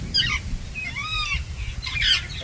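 A green parrot in distress gives repeated harsh, honking cries in short bursts, fairly close and loud, separated by brief gaps of low background rumble.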